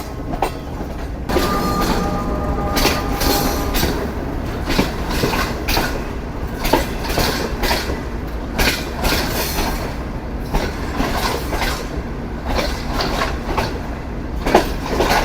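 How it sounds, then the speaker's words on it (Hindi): Green Line passenger train in Pakistan running on railway track near Gujar Khan, a steady loud rumble with rhythmic clickety-clack of wheels over rail joints throughout, brief squealing tones early on, no talk. "ग्रीन लाइन पहुंच गई है गुजर खान, और गुजर खान पर अब ट्रैक पर हज़ारा एक्सप्रेस खड़ी है।"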